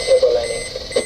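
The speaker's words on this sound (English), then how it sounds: "AIS alarm just went off." A Garmin 7215 AIS alarm sounds aboard a 110 ft motor yacht, a steady electronic tone pulsing in short bursts under low background noise, with a voice speaking briefly.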